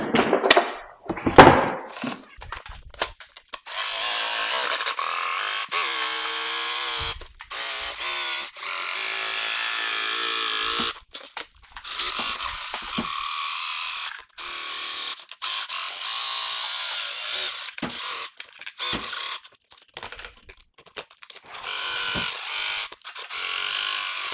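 A power tool, likely a jigsaw, cuts a hole in a wooden bench inside a campervan, running in loud sustained bursts separated by brief pauses, heard close up with no talk.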